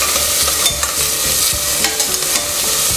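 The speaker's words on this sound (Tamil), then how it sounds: "ஆனியன் வந்து நல்லா ஃப்ரை ஆகணும்." Onions frying and being stirred in a pan for mutton kurma, a steady close sizzle with scraping spoon strokes throughout.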